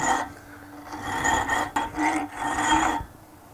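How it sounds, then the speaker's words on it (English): A metal file rasps against a metal bolt spinning on a wood lathe, in several close, rough strokes with short gaps between them and no voices. "Right, we're almost to depth, so I'm going to move to the smoother side of the file."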